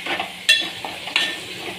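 Tomato with ginger-garlic paste, turmeric, garam masala and Kokani masala cooking in a pan for chana pulao, heard as close, steady sizzling with two sharp scrapes of a metal spoon stirring against the pan.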